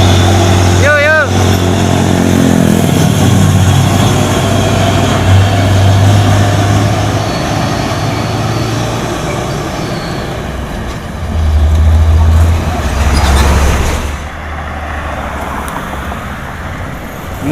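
A modified Hino 500 trailer truck with a Euro 4 engine, hauling an iron pipe load, labors up a steep hill, its deep engine drone rising and falling amid road traffic, with voices talking at times.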